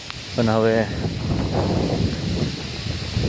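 Strong wind gusts through banana leaves on a farm, a steady broadband rushing and rustling that carries on beneath a person speaking briefly at the start.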